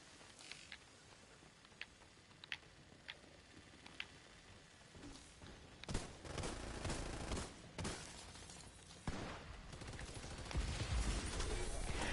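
Gunfire in The Division 2, starting as scattered sharp single shots and building into heavier, denser volleys and impacts, with chaotic combat noise growing louder toward the end.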